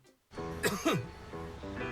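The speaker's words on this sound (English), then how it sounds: "It's just a cough." A single close cough, a short harsh burst with a throaty edge, followed by a brief quieter breath.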